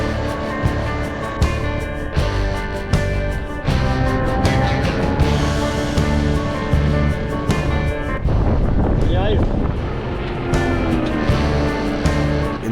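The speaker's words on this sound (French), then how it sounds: "c'est encore une ligne droite avec du vent." Steady wind roaring over a microphone while riding along a straight road near the Merzouga dunes, with a constant low rumble and some engine-like tones underneath.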